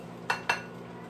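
A spoon scrapes and clinks twice against a bowl while one-pot mac and cheese is dished out, two quick close metallic knocks over a quiet kitchen background.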